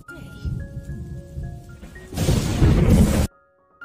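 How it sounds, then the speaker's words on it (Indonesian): Rain falls at nightfall in an animated story, arriving as a sudden dense roaring downpour for about a second before cutting off, after a stretch of spoken narration over faint background. "Hari mulai gelap dan hujan pun turun."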